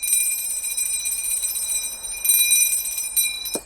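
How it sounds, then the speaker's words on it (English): A notification bell dings, its bright metallic tones ringing out steadily and fairly faint for a few seconds before a short sharp tap at the end. "don't forget to ding the bell"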